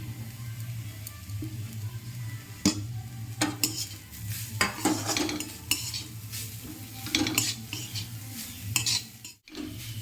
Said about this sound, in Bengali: সেই গাজরটা আমি এর সাথে মিশিয়ে দিচ্ছি